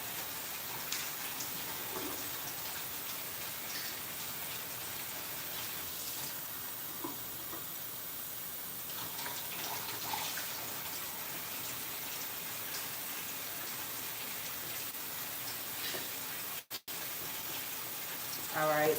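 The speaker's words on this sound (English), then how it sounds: "let me go ahead and put the hot water in" Hot water pours into a cup in a steady, continuous hissing stream that runs unbroken for many seconds at close range.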